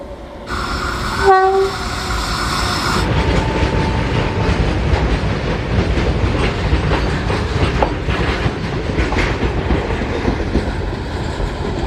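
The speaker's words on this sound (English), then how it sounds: "I'll prefer train rather than going by road back to Bangalore." A Vande Bharat passenger train's horn blares loudly, then the rumble and rhythmic clatter of the passing train carries on steadily and close by.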